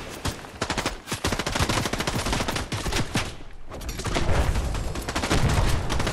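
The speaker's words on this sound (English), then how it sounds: "Oh, who's just shooting at us? Oh, it's NPCs." NPC enemies in Fortnite fire at the player, producing continuous rapid gunfire with dense overlapping shots. The shooting is loud and sustained throughout, with a brief dip before it picks up again.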